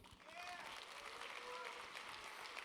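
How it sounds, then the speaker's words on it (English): Audience applause at a convention opening ceremony, a steady wash of clapping from a crowd sustained throughout, with faint whistles and cheers mixed in. "I hope some of them got to hear your applause"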